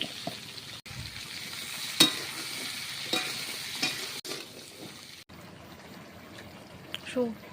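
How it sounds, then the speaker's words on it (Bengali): Papaya pieces with turmeric stir in a hot pan, with a light sizzle and a few scraping knocks of the spoon. Stirring comes in short separate bursts, and a voice is faintly present. "পেঁপেগুলো সব দিয়ে দিই, হলুদ দিয়ে একটু নেড়ে নেব।"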